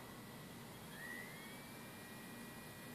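A brushless DC motor driven by an electronic speed controller spins at 3000 RPM, giving a faint, steady whine with a thin tone that rises slightly partway through, alone over a low background hiss.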